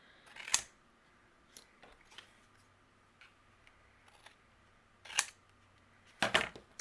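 Paper background piece for a handmade card being trimmed, with a few sharp close snips and clicks of a cutting tool spaced apart, quiet between cuts.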